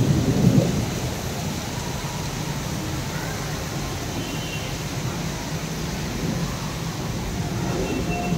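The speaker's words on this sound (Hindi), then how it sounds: "बहुत ही तेज़ बारिश अभी आई है" Steady heavy rain in Delhi roars without a break, with a low rumble of thunder near the start.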